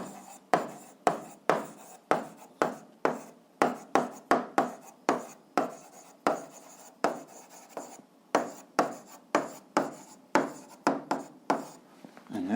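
Chalk or pen strokes writing a physics formula for kinetic energy by hand, a rapid run of short scratchy taps and scrapes in a steady, close rhythm with no talking.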